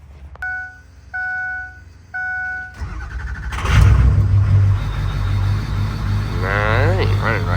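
Three chimes sound, then a 6.0 diesel truck engine with a suspected FICM fault cranks and runs loudly and rough, rumbling close up, with a voice joining near the end.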